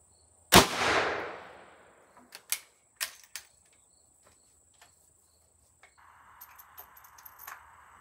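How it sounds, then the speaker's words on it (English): .38 Special Hornady 125gr XTP rounds are fired from a Rossi R92 lever-action rifle with a 20-inch barrel. A single loud, sharp shot rings out and decays, followed by scattered metallic clicks and clatter of the action. "So Hornady 125 XTP loaded in 38 Special out of the Rossi 20-inch."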